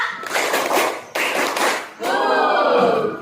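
Rhythmic group clapping in a classroom, the 'tepuk semangat' spirit clap, two clear bursts of sharp claps followed by voices chanting together.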